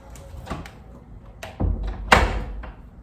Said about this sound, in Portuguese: Vamos ver se fechando essa porta aí ajuda